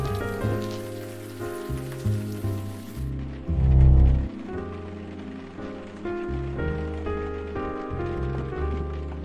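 Rain in the game The Blackwell Epiphany, a steady patter under a layered music bed that swells midway, with no speech.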